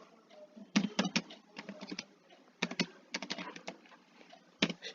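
Typing on a computer keyboard in short irregular bursts of quick, close, crisp key clicks with brief pauses between, while entering a Python print statement.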